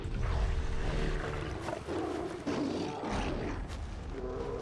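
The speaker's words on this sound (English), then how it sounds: "Why are there two cave lions fighting each other out here?" Cave lions in Far Cry Primal roar and snarl while fighting, a loud growling clash that swells and dips over a steady ambient game bed, with no talk.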